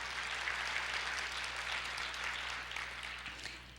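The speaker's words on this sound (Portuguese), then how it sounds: "Vamos aplaudir ao Senhor e nos alegrar com a sua palavra." A church congregation applauds continuously during a sermon, a steady wash of many hands clapping at moderate distance that tapers slightly near the end.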